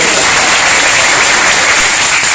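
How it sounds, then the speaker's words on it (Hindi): Loud, dense applause from an audience at a motivational success-story talk, steady and continuous throughout with no voices over it. "इसके लिए तालियां बजा"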